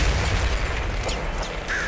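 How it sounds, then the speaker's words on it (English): An auto shotgun fires in the video game Nuclear Throne, with dense, crackling blasts following one another quickly over busy game noise. No one speaks. "now I have an auto shotgun"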